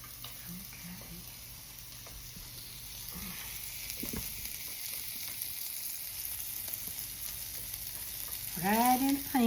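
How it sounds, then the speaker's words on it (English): Small pieces of bacon sizzling softly in a pan, a steady faint frying hiss throughout, with a brief louder clatter near the end. "we gonna fry some up here"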